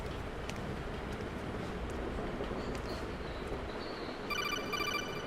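A codec call ringing in the video game Metal Gear Solid 2, a rapid electronic trilling ring that enters near the end over a steady bed of game noise.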